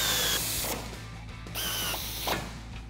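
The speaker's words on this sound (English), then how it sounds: "grab an 18mm socket and a 19mm wrench and tighten these down." Tire carrier bolts on a Jeep Wrangler JK are tightened with an 18mm socket and 19mm wrench, giving a close, steady mechanical whir in bursts with short pauses between them.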